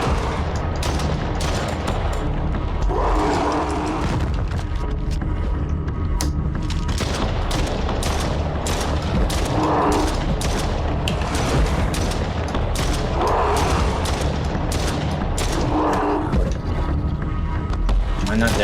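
Gunshots in the Stray Souls video game boom and crack repeatedly over a constant loud, rumbling game soundscape, with a voice talking intermittently.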